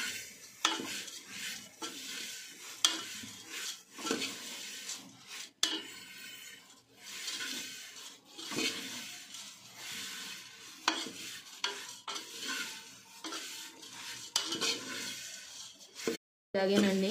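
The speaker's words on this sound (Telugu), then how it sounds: "వేసిన తర్వాత కలుపుతూ ఉండాలి, లేకపోతే కింద మాడిపోతాయి." Chuduva ingredients, flattened rice among them, being stirred and fried in a pan, with steady scraping and clinking of a utensil against the metal over a soft sizzle, near and continuous, while a person speaks briefly.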